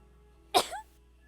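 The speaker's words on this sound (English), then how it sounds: "Gotta sneeze." A single sharp human sneeze bursts out of a quiet room, loud and close, with a short breathy tail falling away afterwards and faint background hum before and after.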